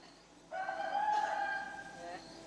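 A voice imitates a rooster's cock-a-doodle-doo crow during a devotional Bhagwat Katha recitation: one long, wavering call, moderately loud, with no other speech.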